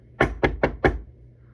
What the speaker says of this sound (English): We hear a knock.